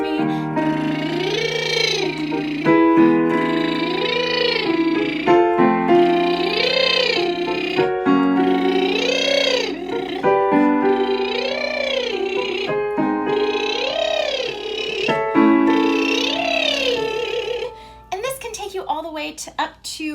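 A singer does a lip-bubble exercise, buzzing lips while sliding pitch in repeated arcs that climb higher with each pass toward the top of the range; close and fairly loud, about seven slides in sequence.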